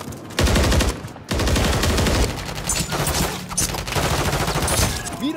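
Call of Duty gunfire rattles in dense, rapid automatic bursts, loud and close, with brief pauses between volleys and shots overlapping throughout.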